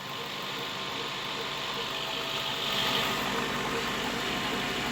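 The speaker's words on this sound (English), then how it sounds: "Little rhythmical belt noise here." A Volvo XC90 V8 engine idles steadily with a faint repeating belt or pulley noise running through it, a continuous close mechanical drone that rises slightly in loudness partway through.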